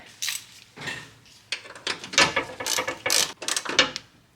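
A battery tie-down bolt is tightened on a 2007 Toyota Highlander Hybrid with a ratchet, giving a series of close, sharp metallic clicks and rattles in uneven bursts with brief pauses, and no voices.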